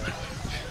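Dogs for sale at the Bocaue pet market let out a quick burst of yips and whimpering barks, close and busy, with people's voices mixed in.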